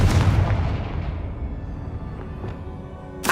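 In Hogwarts Legacy, a Confringo fire spell lands with a heavy, close boom that decays into a rumbling tail, and a second sharp burst cuts in right at the end.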